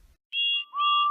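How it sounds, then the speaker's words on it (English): Train engine whistles sound in two clean tonal blasts, the first high and short, the second a longer two-tone note, clear and alone against silence. "The engines whistled,"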